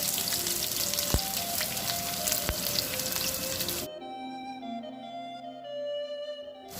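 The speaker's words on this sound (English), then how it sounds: "The onion that I showed you chopped, I'm going to add that" Chopped onion for chicken rogan josh hits hot oil with a loud, steady sizzle, crackling densely and close, then thins to a quieter bubbling frizzle with faint pan clinks toward the end; no one speaks.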